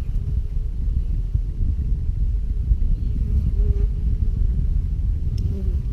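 Honeybees buzzing around a Flow Hive during a brood inspection, a dense continuous low drone of many insects close by, steady throughout with no talk.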